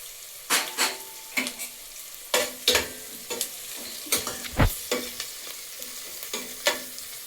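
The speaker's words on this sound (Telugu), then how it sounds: "ఉల్లిపాయ వేగుతుంది." Onions frying with turmeric for tomato rice, a low sizzle broken by about a dozen scraping stirs of a spoon in the pan, each a short rhythmic burst, close and clear with no talking.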